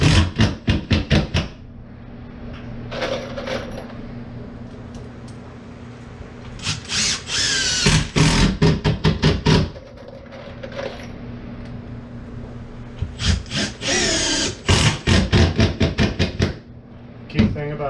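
A power drill drives screws into a piano wall coat rack with a French cleat, several short bursts of whirring separated by pauses, close and loud, with brief talk in between.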